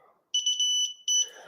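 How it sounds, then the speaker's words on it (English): A Havak Pro Hunter 2 metal detector emits close electronic beeps, a sustained high two-tone tone followed by a short second burst, with faint talk before it. "Okay, so you hear the beep."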